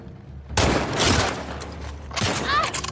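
Loud burst of gunfire in The Last of Us Part II, a sudden volley of shots with short follow-up bursts and a brief rising effect near the end, close and dense.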